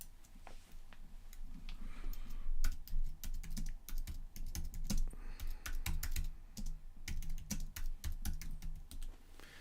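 Typing on a computer keyboard during a photography livestream, a slow irregular run of close, quiet clicks and taps with short pauses between bursts, no talk over it.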